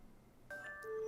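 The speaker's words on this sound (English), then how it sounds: "My alarm's going off, and I'm pressing dismiss, and it doesn't work" A phone alarm starts partway through, sounding as bright sustained electronic tones that layer and continue to the end, close and moderately loud in a quiet room.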